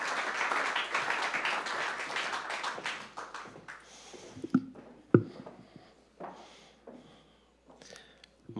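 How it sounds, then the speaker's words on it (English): At the official opening of a company headquarters, an audience applauds the mayor. The clapping is dense for a few seconds, then thins into scattered claps and a few sharp taps before it dies away. "Please, a round of applause for our mayor"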